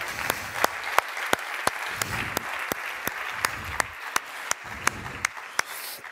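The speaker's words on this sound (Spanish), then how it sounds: "es un aplauso." A small audience claps for the first person to earn a technical certification, with sharp individual claps ringing out in a steady, evenly spaced rhythm over a soft bed of quieter clapping.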